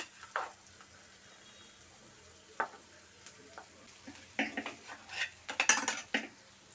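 Spoon scraping and stirring boiled potatoes into a masala dosa filling in a pan, faint at first, then a cluster of louder clinks and scrapes near the end, with light sizzling underneath and no talk.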